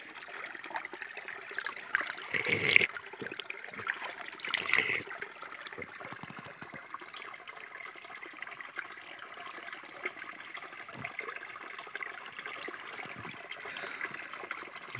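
Slow-moving stream flowing past an old giant tree in cold January weather in India, giving a soft, steady trickle and wash of water with a few louder splashes early on, heard close and without talk.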